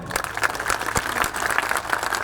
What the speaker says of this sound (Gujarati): સદારામ બાપાની એક જોરદાર તાળીઓ બાપા માટે